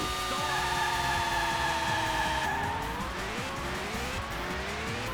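A race car engine in the racing video game Super GT 24h roars loudly and steadily, a high revving whine holding then shifting pitch midway, with tire squeal and no talking.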